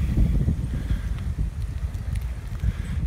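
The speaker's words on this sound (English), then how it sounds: "Goodness, wind, where did you just come from?" Gusty wind buffets a microphone outdoors on a hiking trail, a steady low roaring rumble with irregular surges and no voices.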